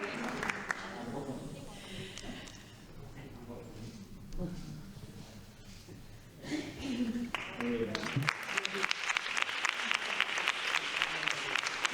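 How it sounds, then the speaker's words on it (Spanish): At an awards ceremony during a women's health week event, a voice speaks, then a crowd bursts into loud, sustained applause for the winners that fills the final few seconds. "Un fuerte aplauso para todos los ganadores."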